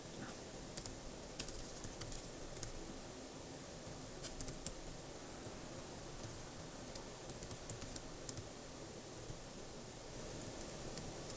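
Keystrokes on a computer keyboard clatter steadily throughout at low level, with small irregular clicks over a constant hiss, while entering a listing for the magazine-distributed game Star Dragon.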